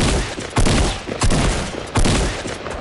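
Gunfire in Fortnite, with loud broadband shots bursting at irregular intervals, several sharp cracks in quick succession over a dense, noisy game backdrop.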